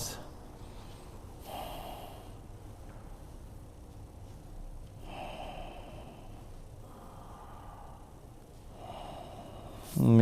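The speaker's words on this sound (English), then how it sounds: "A few breaths" Slow deep breaths during a yoga flow class come in several soft, evenly spaced inhales and exhales, fairly close and quiet, with low room noise between them.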